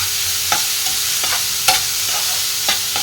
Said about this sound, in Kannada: ಇಲ್ಲಿ 2 ಈರುಳ್ಳಿಯನ್ನು ಕಟ್ ಮಾಡಿ ಹಾಕ್ಕೊಂಡೆ.